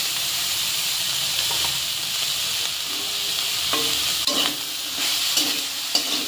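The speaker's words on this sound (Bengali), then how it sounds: "এবার ভালো করে ভেজে নেব।" Dry fish and pointed gourd frying with turmeric in a pan make a continuous close sizzle, broken by several sharp clicks and scrapes of stirring in the latter half, with no voices.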